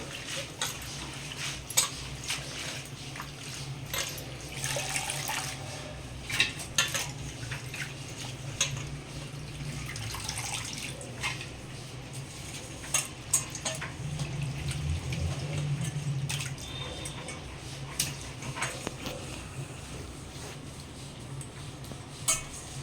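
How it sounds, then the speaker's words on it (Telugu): Amaranth leaves are being washed by hand in water, with soft continuous splashing and sloshing plus occasional clinks of a vessel, fairly quiet throughout with no talking. "సెకండ్ టైం వాష్ చేసుకోవాలి, అలా వాష్ చేసుకోవాలా."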